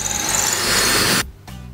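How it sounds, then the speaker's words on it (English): A power drill whines loudly and continuously for over a second while drilling deep into a wall, then cuts off, leaving a brief pause before a faint hum resumes. "I had to remove the 2x4 and drill even deeper into the wall."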